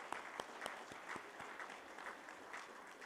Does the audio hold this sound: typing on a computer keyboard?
no